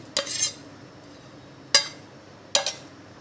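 A spoon mixes crushed chili paste into drained chicken in a dish, giving three separate sharp scraping clinks with short pauses between them, close and clear against a quiet background.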